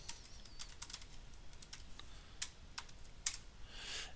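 Quiet, irregular clicks of someone typing a password on a computer keyboard, a short run of close keystrokes with small pauses between them and no talk.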